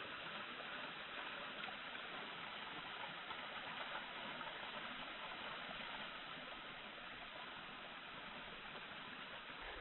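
A steady, dense rush of falling water from a waterfall with an unused water mill above it, a constant broadband roar with no breaks, heard from some distance at low level, with no voices.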